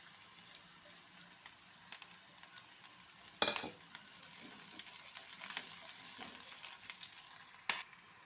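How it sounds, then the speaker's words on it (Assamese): Bitter gourd frying with green chili and garlic in a pan gives a faint, steady sizzle, with a few sharp stirring scrapes and clinks. "অকণমান ভাজা হওঁতে মই ভাতকেৰেলাখিনিও দিছোঁ।"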